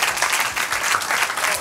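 A short burst of dense audience applause at a quiz night, loud and close, filling the room with no voices on top.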